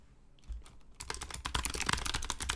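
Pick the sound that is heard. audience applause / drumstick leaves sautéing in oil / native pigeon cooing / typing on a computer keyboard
typing on a computer keyboard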